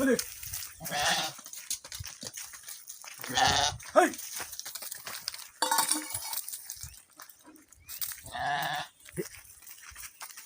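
Goats in a farm compound bleat in several separate loud bursts, with quieter gaps between them, while people talk nearby.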